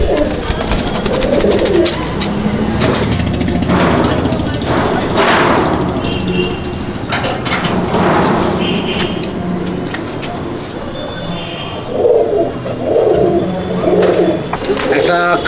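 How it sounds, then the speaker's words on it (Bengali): Old-line Giribaz pigeons in a loft, soft cooing and fluttering thumps close by under steady conversation between men, with some background traffic. "আর এই পায়রা পুরনো লাইনের পায়রা"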